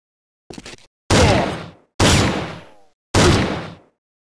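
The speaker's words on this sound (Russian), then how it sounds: "два выстрела выдержать из гаранта в упор в голову" Gunfire from an M1 Garand rifle in the tactical video game Jagged Alliance 2, three loud, sharp single shots spaced about a second apart, each with a short decaying tail, preceded by a faint clattering.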